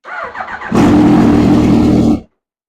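Turbo Suzuki Hayabusa motorcycle engine cranking briefly, catching into a loud roaring run for about a second and a half, then abruptly cutting out into silence.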